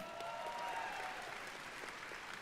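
Audience applause at the BlizzCon 2023 opening ceremony, a steady wash of clapping from a large crowd, heard at a distance and fairly faint.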